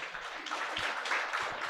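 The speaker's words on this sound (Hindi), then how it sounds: "एक बार आप अपने लिए भी तालियां बजा सकते हैं" Audience applause at a seminar hall, a steady wash of many hands clapping without a break, moderately loud and fairly close.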